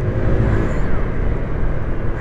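A Honda SH125i scooter pulling away hard from cruising speed, its engine a close, steady low rumbling drone with a faint rising whine, heard alone without speech.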